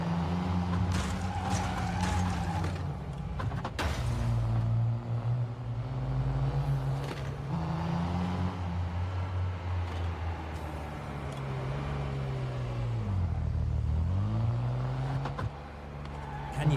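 Car engine droning steadily with rising and falling pitch while driving in the open-world video game Neverness To Everness, with brief skidding tire noises, loud and continuous throughout.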